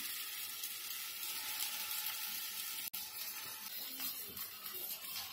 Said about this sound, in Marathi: आता आपण ह्या शॅलो फ्राय करून घेऊया.